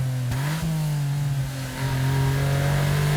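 Honda Beat small car engine revving steadily, a loud close mid-pitched drone with a brief dip and rise before holding high, no talk.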